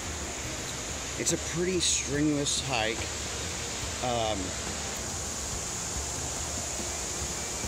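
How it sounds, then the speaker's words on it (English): Waterfalls at Burgess Falls State Park roar as a constant broad rush in the background, with someone talking briefly over it. "you can probably hear all of the waterfalls behind me"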